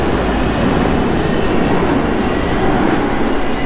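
A loud, steady rumble of a metro train in Malaysia running past nearby, a continuous roar of wheels and motor with no pauses.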